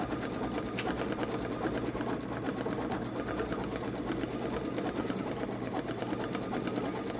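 A Babylock Solaris Vision embroidery machine stitches a gnome design, a fast, steady mechanical needle rhythm running continuously up close without any talking.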